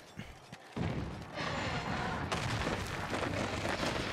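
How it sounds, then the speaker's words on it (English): Explosions in the video game Monster Hunter: World burst in with a heavy boom and then roll on as a dense, loud rumble of blasts and debris, with no voices. "No, not the explosions."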